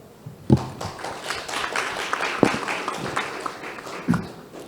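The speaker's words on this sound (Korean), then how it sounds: "박수로 맞아주시기 바랍니다." Applause from the audience at a Korean Institute of Electrical Engineers summer conference panel session, a steady patter of clapping with a few louder claps, welcoming the panel moderator.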